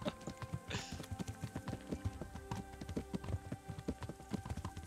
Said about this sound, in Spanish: pisa un poquito al acelerador, que el caballo te lo va a agradecer